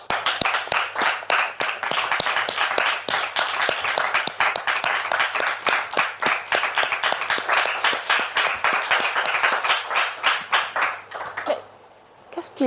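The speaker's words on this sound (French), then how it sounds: "applaudissements, s'il vous plaît." A studio audience breaks into sustained, dense applause that stays loud and even for about eleven seconds, then fades out abruptly near the end.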